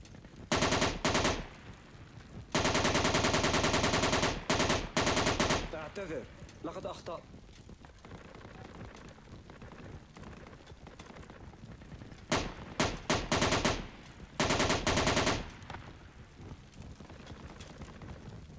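Heavy automatic gunfire bursts from the military shooter game Project Reality on the Al Basrah map, loud rapid volleys early and late with quieter stretches between, while players talk over the action.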